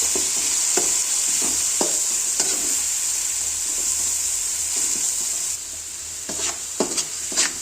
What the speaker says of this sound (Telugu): మసాలా మసాలా బాగా వేయించాలి